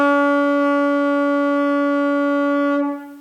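One long saxophone note held steady and loud with a rich harmonic tone for about three seconds, then tapering off at the end, played alone.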